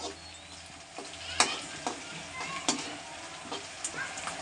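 Chopped onions with ginger-garlic paste fry in a pan for an eggless egg curry. A soft, steady sizzle carries on throughout, broken by several sharp clinks and scrapes as the mixture is stirred.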